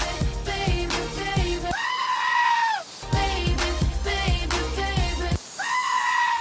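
A comedic goat edition remix of a pop song, where loud goat bleats break into the backing music at regular points. Each wavering bleat stands out above the song before the beat picks up again.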